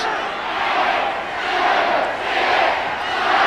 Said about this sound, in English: The crowd are counting down for the timekeepers and the referee